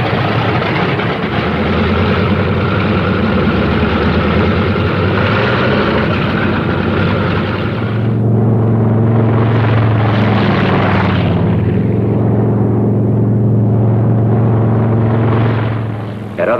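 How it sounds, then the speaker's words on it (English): P-47 Thunderbolt fighter planes warming up on a wartime airfield, a loud, steady propeller-engine roar that shifts in pitch partway through and keeps droning to the end, with no voices. "On the field, planes warm up. It's takeoff time for the Thunderbolts."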